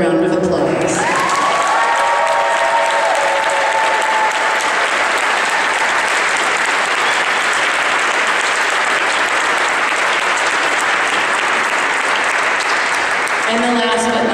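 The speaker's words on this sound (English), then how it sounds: "So I think Scott deserves another round of applause." An audience at a Seattle Rock Orchestra David Bowie show gives a long, loud round of applause, dense clapping mixed with cheers and whoops that holds steady throughout before fading at the end.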